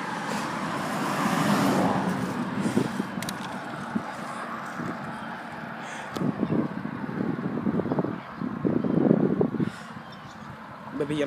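A car passes a cyclist on an open road, its tyre and engine noise swelling and fading against gusty wind buffeting close by, with a few uneven bumps of road rumble.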